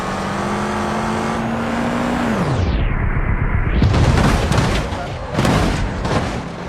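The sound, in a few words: Dodge Charger engine in video game BeamNG.drive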